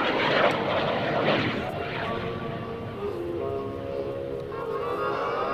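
A North American F-86 Sabre jet makes a low pass at an air show, its engine a loud steady roar that holds and slowly shifts in pitch as it goes by.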